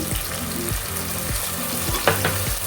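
Onion, ginger and garlic fry in a pan with a little water splashed in, a loud close sizzle broken by regular thumping stirring strokes about every half second, with no voices.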